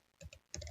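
Fingers tap a computer keyboard at a desk while modeling in design software, a few quick, soft, close key clicks in a short burst.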